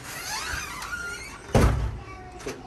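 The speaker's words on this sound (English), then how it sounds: "Close the door." A door swung shut in a game, a single solid thud near the middle after a faint squeaky slide, with brief soft noise around it and no other clear sounds.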